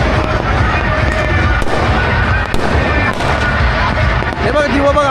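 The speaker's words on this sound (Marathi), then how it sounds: "फटाका पुढं सुरुवात झालेली आहे" Firecrackers going off at an evening Sankranti celebration, a dense continuous barrage of pops and bangs at close range, with voices faintly under the din.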